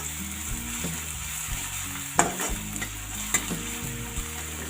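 Garlic for radish sabzi sizzles steadily in hot oil in a pan, close and continuous, with a few clicks of a spoon stirring against the metal and no talking.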